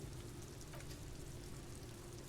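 Steady, faint rain patters on surfaces in the video game Disco Elysium, an even hiss throughout with a low ambient hum beneath it.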